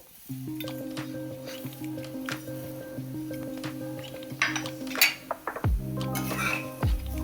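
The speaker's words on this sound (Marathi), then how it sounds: "आणि कंटिन्यू छान असं हलवत राहायचं आहे चांगला सोनेरी रंग येईपर्यंत शेवाय छान अशा भाजून घ्यायच्या आहे" Vermicelli fried in ghee over a low flame is stirred in a pan, light scraping and clinking of a spoon against metal over a faint steady hum, close and moderately quiet, with no talking.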